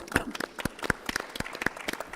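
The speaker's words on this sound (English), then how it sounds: "Big applause." Audience applause fills a main-stage hall at a football summit, with a steady patter of many hands clapping at close range and no voices over it.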